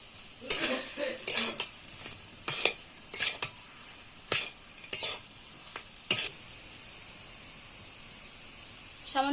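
Fried peanuts stirred into a sizzling pan of samosa filling: a spatula scrapes in a run of sharp, uneven strokes over a steady background hiss, close and fairly loud.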